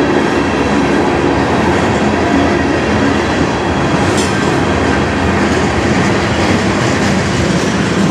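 A CN manifest freight train, led by CN and KCS locomotives, rolls past at night in Sarnia, Ontario. Wheels and cars keep up a loud, close, steady rumble with faint clacking and a brief squeal.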